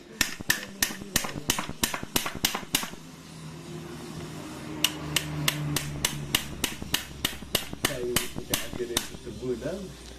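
Sharp hammer strikes ring out in quick repeated bursts while freeing a seized motorcycle bolt, pausing briefly before another rapid series, with low talk and a faint hum underneath.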